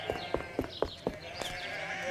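Cartoon sheep bleat repeatedly in a Postman Pat episode, a flock of short, overlapping baas in quick succession, close and clear with no talk.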